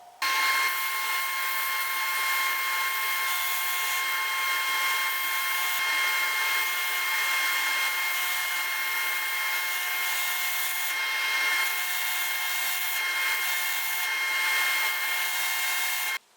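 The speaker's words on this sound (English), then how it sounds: "I'll have to switch over to the drum sander on the Mark 7." Drum sander on a Shopsmith Mark 7 smoothing the inside curves of laminated wood, a steady close high-pitched whine with a constant motor hum from start to finish.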